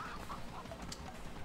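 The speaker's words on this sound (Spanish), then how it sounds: "Se te soltó la gallina" Chicken clucking in the video game Moving Out, a few short clucks over a steady, dense game background with no talk.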